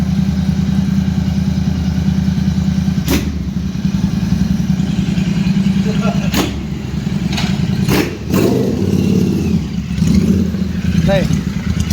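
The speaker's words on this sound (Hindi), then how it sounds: "बाहर इसका एग्जॉस्ट सुनाते हैं आपको।" A Royal Enfield Super Meteor 650 motorcycle with a modified exhaust runs outdoors, its loud, steady engine note rumbling throughout with a few sharper bursts and clatters over it.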